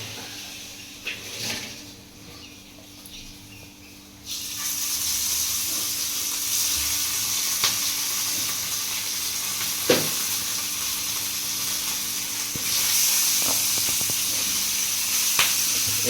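Pieces of mushi fish (small shark) sizzle in a shallow pan on a tava, a steady crackling hiss that swells louder partway through and carries on with small pops and spatters, with no talk over it.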